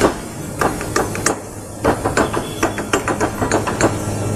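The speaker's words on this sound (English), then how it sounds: "We just give it a few whacks." A hand tool strikes a spud, driving it into pump packing with a few sharp metallic whacks, followed by a quick series of knocks and clatters, close and fairly loud, with no talk.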